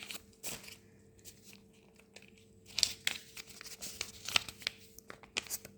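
Paper gift bag being rustled and crinkled, with sharp crackling bursts and handling noises at close range, no talking.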